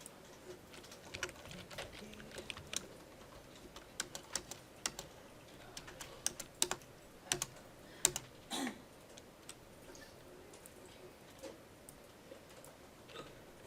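Fingers type on a computer keyboard in irregular bursts of sharp, close clicks, some keystrokes louder than others, with no voices over them.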